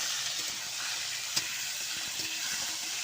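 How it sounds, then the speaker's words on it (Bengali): Potatoes frying in a pan with bay leaves, a steady close sizzle and hiss with a few small pops and stirring clicks, no talk. "এবার আলুগুলো লাল লাল করে ভেজে নেব।"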